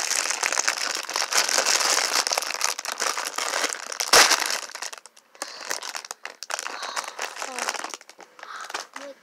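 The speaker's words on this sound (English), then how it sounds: "Let me try to open it." Plastic packaging around a squishy toy crinkles and crackles continuously as it is torn open by hand, close and busy, with a sharp rip midway and a person talking over it.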